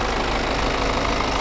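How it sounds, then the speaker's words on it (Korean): A BMW 5 Series G30 520d xDrive diesel engine idles in the engine bay with the hood open, a steady, even, loud rumble heard alone. "엔진 소리 일정합니다."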